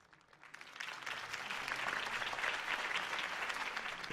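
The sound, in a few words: crowd applause for campaign speech in Batman Telltale video game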